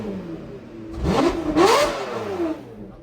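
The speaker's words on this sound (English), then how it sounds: "do we just rev it a little because that's what I need?" A cheap supercar's engine revs inside a trailer, rising and falling in pitch over a couple of seconds, close and fairly loud.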